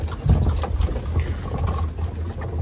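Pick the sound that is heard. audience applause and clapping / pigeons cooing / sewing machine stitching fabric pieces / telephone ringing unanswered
pigeons cooing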